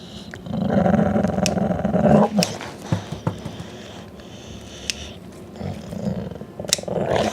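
A small pet dog growls and grumbles through a nail trim, the low rumbling rising and falling in bursts, close by, with sharp clicks and handling noises between growls and no talking.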